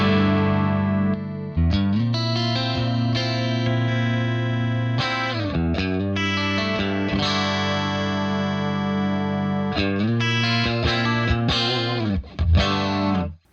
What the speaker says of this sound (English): I love this chorus.